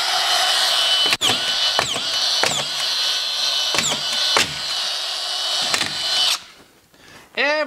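A DeWalt collated drywall screw gun drives screws one after another in a quick series of sharp clicking bursts over a high motor whine, then a misfeed rattles briefly before the motor spins down.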